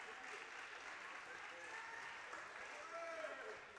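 Crowd applause in a gym at a men's basketball tournament awards ceremony, a continuous distant clatter of many hands, with faint whistle-like tones and crowd murmur underneath.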